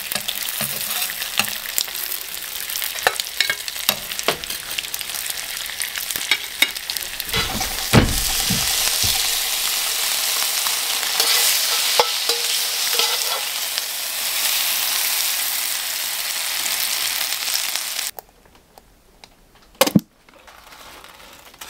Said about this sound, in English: That bacon crisped up so fast.